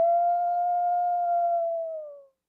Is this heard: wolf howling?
yes